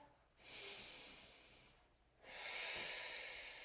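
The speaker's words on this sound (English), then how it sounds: "Take a breath." Slow breaths during a stretching exercise in a strength flow class, two long, soft airy inhales or exhales close to the microphone, faint and alone with no talking.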